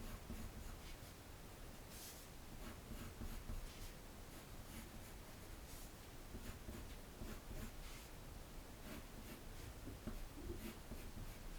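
A colored pencil drawing on paper makes a quiet, continuous scratchy rustle of repeated strokes, with small shading bursts throughout and no voices.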